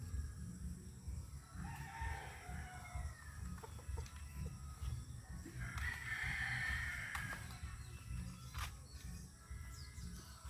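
A rooster crows twice, a few seconds apart, over a steady low rumble of outdoor background noise.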